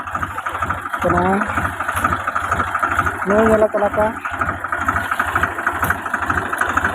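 A tractor engine idles and runs with a steady low throbbing pulse, close and loud, while someone talks over it throughout.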